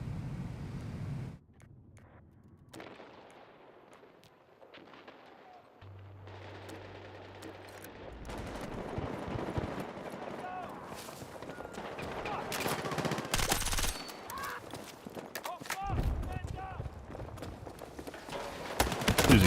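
Gunfire from the Battlefield 6 video game during an urban objective attack, sounding as bursts of shots that grow denser and louder toward the end, mixed with other battlefield noise and some low talk.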